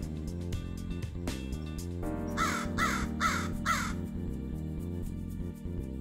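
Several crows, about four, caw outdoors in repeated harsh bursts of three or four calls over steady background noise, loud and fairly close, with no talking.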